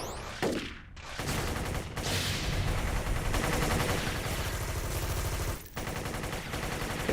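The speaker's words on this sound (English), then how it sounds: "I love when multiple grenades go flying at one guy." Rapid overlapping blasts of grenades and gunfire in a Warhammer 40,000 video game fight, loud and dense for several seconds with a brief drop near the end, no talking.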